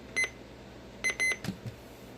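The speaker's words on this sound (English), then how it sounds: "if I were to just push that button, that little round button, it just beeps" Short electronic beeps from a small talking atomic clock: a single beep, then a pair, followed by faint button clicks, quiet and close.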